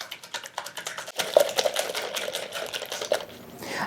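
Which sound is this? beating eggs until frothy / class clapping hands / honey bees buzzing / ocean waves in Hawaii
beating eggs until frothy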